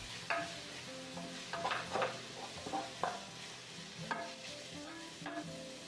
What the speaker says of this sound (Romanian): călim ceapa până devine translucidă